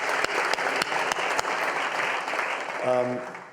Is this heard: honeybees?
no